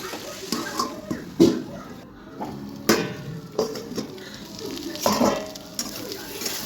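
Potatoes being stirred in a pan for a Bengali fish curry with potato and pointed gourd, a steady sizzle with a few sharp spatula scrapes and knocks against the pan, close and fairly loud, no talking.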